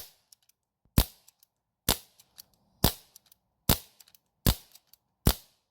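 Six sharp gunshot cracks from a plinking gun that gives off smoke, fired one at a time at a steady pace with about a second between shots, each followed by a short ringing decay and a few faint clicks.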